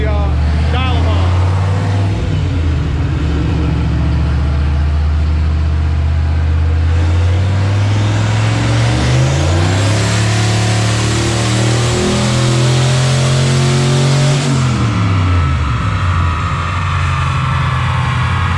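A turbocharged 1988 Ford Mustang with a stock-block 302 on a dyno pull, a loud, sustained engine roar climbing steadily in pitch, briefly easing off before surging higher, then falling away at the end, with talk underneath.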